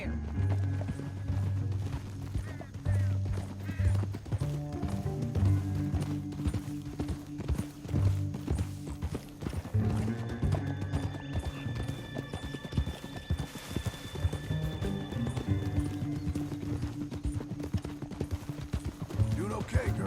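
Horses gallop through a canyon in the video game Red Dead Redemption 2, with steady rhythmic hoofbeats running throughout over a musical score, with occasional neighs and a voice speaking at times.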